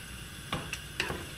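Sauce stirred in a pan on low heat, a few soft scraping strokes of a spoon over a faint background hiss, close and quiet.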